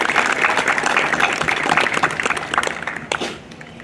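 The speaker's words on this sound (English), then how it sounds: "Let's give them a big round of applause." At a municipal band concert, an audience claps for the film crew, with lively, crisp applause that thins out and tapers near the end.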